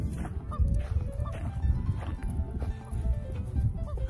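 Repeated honking alarm calls from geese or similar waterfowl ring out at a marsh over a low rumbling wind, several short cries scattered through the clip.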